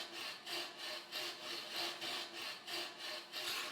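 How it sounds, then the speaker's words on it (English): A fret saw cuts through wood in traditional Tibetan woodcarving, with steady rhythmic back-and-forth strokes, about seven even rasping pulses, close and clear with no talk. "With the fret saw, they then cut out the negative spaces in the image."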